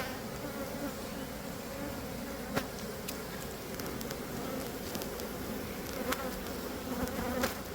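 Honeybees buzz in a dense, steady swarm around an opened hive being smoked during an inspection, a close continuous drone with occasional louder fly-bys and faint rustling.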